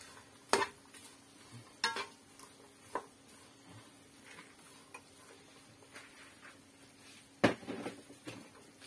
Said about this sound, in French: On mélange bien au caramel